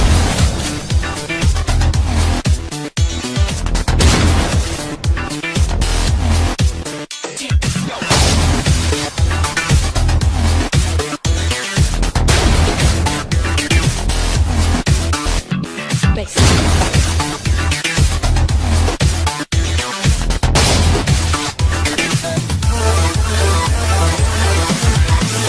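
Shotgun gunfire in the video game Modern Warfare 3 comes as loud, repeated booming blasts in quick succession over a dense, continuous layer of game sound, with brief gaps between bursts.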